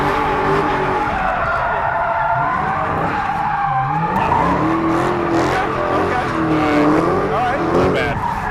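Tires of a Dodge Hellcat squeal continuously as the car spins donuts, a loud, sustained screech with wavering pitch over engine roar, voices faintly present.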